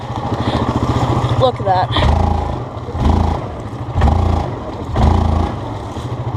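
A 2016 Yamaha Kodiak 700 special edition ATV in 4-wheel drive ploughing through deep water on a trail ride, its engine droning close and loud with rhythmic surging revs, while someone talks over it.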